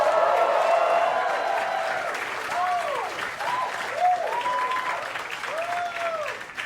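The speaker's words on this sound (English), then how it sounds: "You're clapping" A stand-up comedy crowd claps in a steady, full burst that slowly tapers, with scattered whoops and voices rising above the applause.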